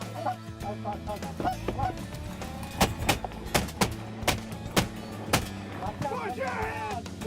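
Geese honk repeatedly on a Chesapeake Bay waterfowl hunt, calling in short bursts while sharp, loud shotgun blasts crack in a series of close shots, with some speech in the background.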